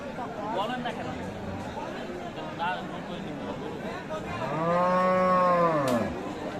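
A crossbred bull lets out a loud, drawn-out moo close by at a busy cattle market, rising over a steady murmur of people talking and crowd chatter.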